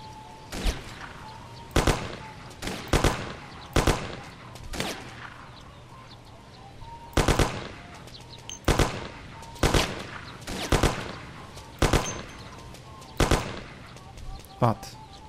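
Gunfire from a sniper and other weapons in the video game Mafia, with a dozen or so loud, sharp shots spaced irregularly across the stretch, some in quick pairs, over a steady low game ambience.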